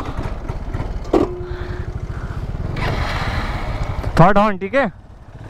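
An Aprilia SR150 scooter engine drones steadily beneath wind noise during a drag race, with a voice speaking briefly over the riding sound.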